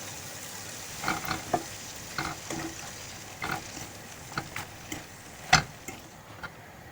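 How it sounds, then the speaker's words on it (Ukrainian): Cheese sticks fry in hot oil with a continuous sizzle. Irregular pops and crackles punctuate it, and one sharp louder snap comes near the end. "І так само обсмажуємо всі наші сирні палички."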